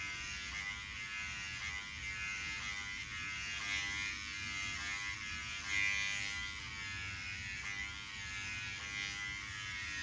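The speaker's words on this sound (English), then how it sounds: "I think this is the one to use for regular shaving." A Voyor ES500 electric shaver from a hair removal set runs with a steady, fairly quiet buzzing hum that holds even throughout.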